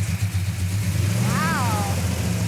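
A 1967 Plymouth GTX Hemi convertible engine starting and revving, a deep rumbling idle that swells into a throaty rev, close and loud, with voices talking over it.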